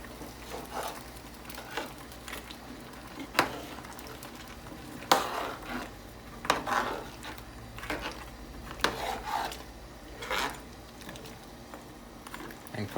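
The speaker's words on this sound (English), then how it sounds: "now we're just gonna give this a little stir" A spoon stirs oxtail pot roast in a pot, giving quiet scraping and knocking strokes at irregular intervals over a soft background simmer, close and unaccompanied by speech.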